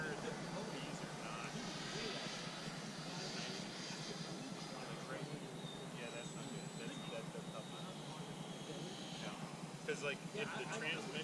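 Freewing MiG-29 Fulcrum RC jet flying just after takeoff over a mushy field, a steady electric ducted-fan whine with a high tonal streak, heard at a distance under continuous outdoor talk.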